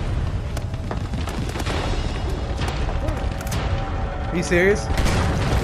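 Grenade explosions in the video game Uncharted 2 Remastered boom steadily under near-constant excited talk, forming a dense, continuous roar of blasts and rumble throughout.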